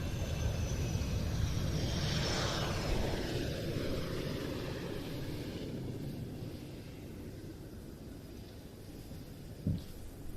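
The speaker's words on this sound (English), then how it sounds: "Here comes the first one touching down, and the air brake deployed between those distinctive tail fins." A military jet with distinctive twin tail fins touches down at an air show with its air brake deployed, a broad roaring wash of engine noise swelling early and slowly fading, with a brief thump near the end.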